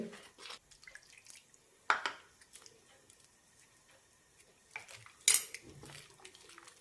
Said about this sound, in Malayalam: കട്ടകളില്ലാതെ മിക്സ് ചെയ്തെടുക്കാം